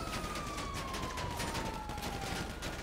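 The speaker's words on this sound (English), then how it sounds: "Oh shit, they're shooting back." Dense, sustained gunfire in the GTA 5 video game during a police shootout, a continuous rattle of rapid shots over a faint descending siren-like tone.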